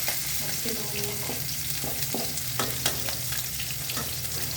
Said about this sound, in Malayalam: മത്തി മൂത്ത് ഞാൻ മറിച്ചിടട്ടെ.